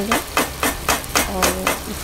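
Chicken roasts in ghee in a pan, stirred with a regular rhythm of about five scraping strokes over a soft sizzle, close up with no voices.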